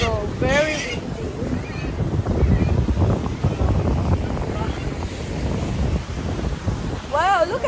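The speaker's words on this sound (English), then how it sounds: "Wollongong, very windy." Strong wind buffeting on the rocky coast at Wollongong, a continuous loud rumbling roar with gusts throughout, mixed with surf, and brief bird-like chirps at the start and end.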